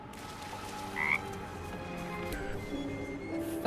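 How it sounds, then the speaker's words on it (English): A frog in the fantasy role-playing game Baldur's Gate 3 gives a loud, short croak, followed by softer ribbiting chirps, over a quiet game ambience. "The frog croaks loudly, pleased."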